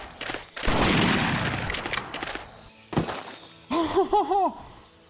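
Rifle shots in the hunting game Hunting Unlimited 2010, a couple of loud blasts with rolling echoes, separated by pauses, followed by a brief rising electronic tone.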